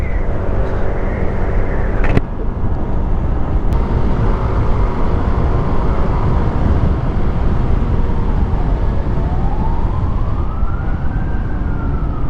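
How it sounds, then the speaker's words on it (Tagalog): A wailing emergency siren from a passing ambulance rises and sweeps over steady, loud traffic and wind noise, heard from a motorcycle riding along Marcos Highway near C5 Libis. "Ba't may ambulansya?"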